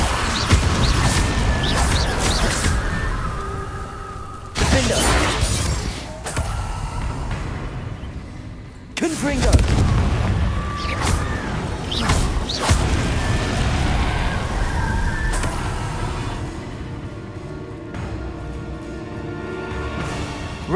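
Confringo fire spells go off in Hogwarts Legacy as a dense, loud run of booming blasts and crackling impacts. The sound is near and sustained, with several sharp hits spread across it.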